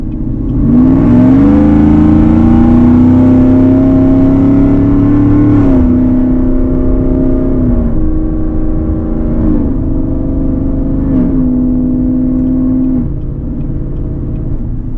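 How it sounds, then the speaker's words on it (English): A Katech Whipple-supercharged 2018 GMC Yukon Denali with a Corsa exhaust revs loud and close, its deep engine note climbing and holding, then dipping and rising again in several repeated blips. "So the Corsa exhaust is pretty docile when you're cruising, but when you get into it, this thing is an absolute beast."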